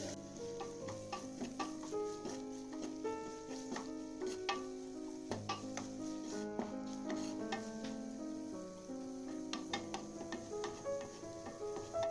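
Sliced onion and green chilli fry in a pan with steady sizzling and repeated sharp clicks of a spoon stirring and tapping against the pan, close and continuous with no voices.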